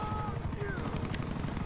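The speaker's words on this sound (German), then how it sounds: "Oh, da kommt gegnerische Hubschrauber." An enemy helicopter in GTA Online, its rotor giving a continuous, fairly close pulsing chop while a voice talks over it.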